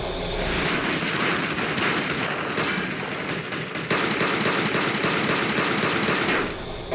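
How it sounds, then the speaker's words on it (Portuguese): Dense, continuous gunfire from a Breaking Bad episode, rapid overlapping shots that run loud and steady for several seconds before cutting off. "e logo o Hank atira tão bem"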